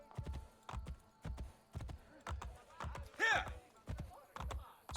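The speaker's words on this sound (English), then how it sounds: "Come to me, warhorse." Hooves of a white warhorse clip-clop in steady rhythm in Assassin's Creed Brotherhood, a short whinny rising midway, with a voice talking over the game.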